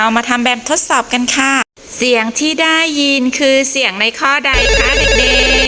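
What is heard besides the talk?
telephone ringing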